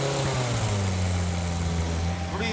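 A worn, high-mileage Morris Minor car engine runs steadily with a low, even droning hum and a smoky exhaust, loud and close throughout.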